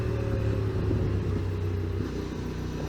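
Motorcycle engine humming at a steady, low rumble while cruising gently along a winding country road, close and continuous with no sharp revving.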